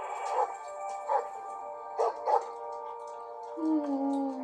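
A dog barks a few times in a TV drama scene, with short sharp bursts spaced through the clip and a brief whine near the end, fairly close and moderately loud.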